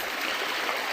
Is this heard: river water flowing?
yes